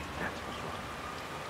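Steady nighttime rain pours down in a city setting in the video game Hitman 3, set in Chongqing, China, a continuous dense hiss with no voices over it.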